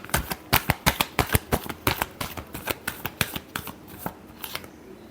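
Tarot cards are riffled in a close, crisp run of about two dozen quick slaps and flicks, steady at first and thinning toward the end, with no voices.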